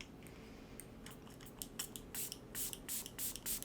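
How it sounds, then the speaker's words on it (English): Makeup setting spray misted onto a face in a quick series of short, close hissing pumps that grow louder toward the end, with no talking. "Okay, then I'm gonna go in with the Kosa or the Kapari spray."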